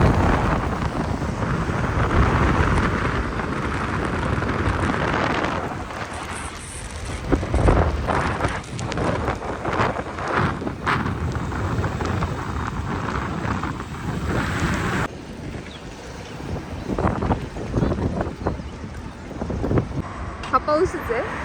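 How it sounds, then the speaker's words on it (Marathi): Rain falls outdoors as a dense, continuous hiss, with gusty wind-like swells and occasional louder bursts, fairly close and filling the whole scene. "हा पाऊसच आहे"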